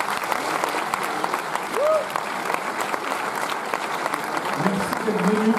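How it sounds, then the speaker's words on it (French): A film festival audience claps steadily in sustained applause, with a few voices and whoops rising above the clapping. "Je vous demande de les applaudir."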